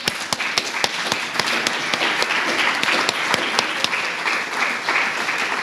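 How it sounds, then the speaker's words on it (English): Round of applause from an audience at a graduate capstone welcome event, dense steady clapping with distinct sharp individual claps standing out near the microphone throughout. "So let's give them a round of applause"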